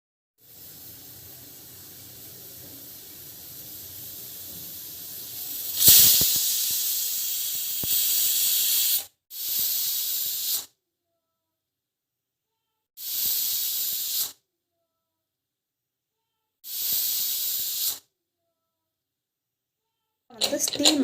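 A pressure cooker with tamarind gravy vents steam in loud, sharp hissing bursts. A quieter, rising hiss builds first, then four or five separate blasts of a second or so each are split by dead silence.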